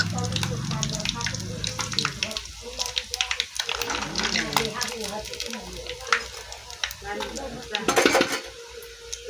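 Food fries in a pan while a utensil stirs and scrapes it, producing repeated metallic clinks and scrapes over a low sizzle, with a voice talking at times.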